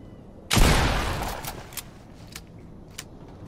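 A single loud shotgun blast from a horror video game, booming and decaying over about a second, followed by a few faint clicks and thuds.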